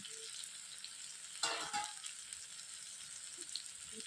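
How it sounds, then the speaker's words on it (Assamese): Duck meat with salt and turmeric being stirred in a pan over a wood fire, with a faint steady sizzle and a brief scraping stir in the middle; quiet, no talk. "মাংসখিনি দি ইয়াত মই নিমখ আৰু হালধি দি এইখিনি ভালদৰে লৰাই দিম।"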